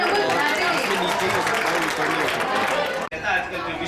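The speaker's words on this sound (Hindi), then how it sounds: "जोरदार तालियां" Loud audience applause at a Republic Day celebration in a hall, a steady wash of clapping that holds for about three seconds before cutting off abruptly.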